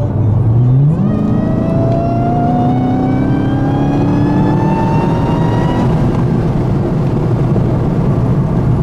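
A 2018 widebody Dodge Challenger Hellcat, a rebuilt wreck, revs loud and close: the engine note climbs sharply, holds a high strained howl for several seconds, then drops back to a rumbling idle.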